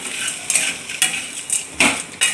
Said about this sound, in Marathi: आता ही खडी साखर आपण ह्याच्यात घालायची आहे आणि छान असं मिक्स करून घ्यायचं आहे